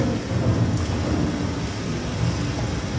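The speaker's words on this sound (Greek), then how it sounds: "Μια δροσερή βροχή." Thunder rumbling with steady rain, a dense continuous wash of rainfall and low rolling thunder, fairly loud and close, with no talk.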